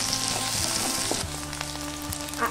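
Ground masala paste sizzles and fries in a kadai for mutton curry, a steady close sizzle with soft stirring scrapes and a few low knocks, no talking.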